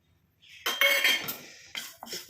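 Black cumin seeds are tipped into a heavy-bottomed iron pan, giving a short metallic clatter and scrape of the pan and utensil, close and moderately loud, with a few quieter clinks after, without talk.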